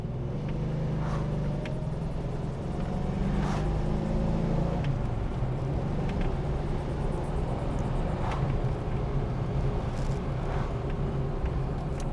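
A 1985 Ford Mustang GT driving on the road with the engine rumbling steadily and shifting pitch through a downshift, heard from inside the car over continuous road and wind noise.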